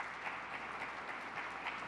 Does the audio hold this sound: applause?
yes